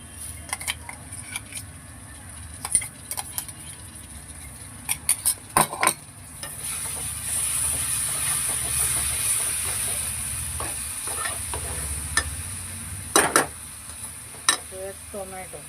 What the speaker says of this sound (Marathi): आणि टाकूया आलं, लसूण, हिरवी मिरची आणि कोथिंबीरची पेस्ट.